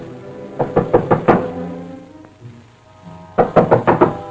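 Knocking on a door in an old adventure serial: a quick burst of five hard knocks, a quiet pause with faint sounds, then another rapid run of five knocks, loud and close.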